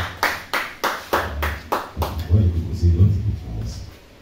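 A church congregation claps in a steady rhythmic beat of about seven claps, then the sound breaks into looser applause as voices rise underneath.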